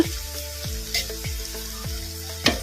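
Leftover-rice bonda batter drops into hot oil and fries with a steady close sizzle, punctuated by several soft plopping drops as pieces go in, with no talking.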